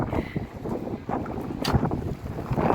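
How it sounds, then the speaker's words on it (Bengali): Strong wind in Saudi Arabia buffets the microphone in continuous roaring gusts, with occasional sharper rumbles and no voices. "সৌদি আরব আসার পর আজকে এত বাতাসের সম্মুখীন হয়েছি"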